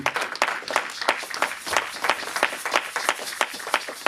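A church congregation claps and applauds together, a dense run of quick irregular claps close by and fairly loud, with a few voices mixed in.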